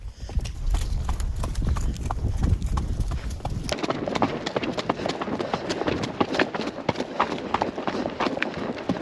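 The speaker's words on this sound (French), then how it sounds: "On se fait un petit trot." Horse trotting on a path toward grass while ridden, hooves clip-clopping in a steady, fast rhythm close by throughout, with a rider's voice and rustling wind noise mixed in.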